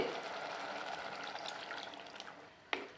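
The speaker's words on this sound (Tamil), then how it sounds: "தேவையான அளவுக்கு தண்ணி விட்டுக்கலாங்க" Water pours into a pan of large prawns frying for a pepper fry, a steady close hiss and splash that fades toward the end, followed by a sharp clink of a utensil, with no talking.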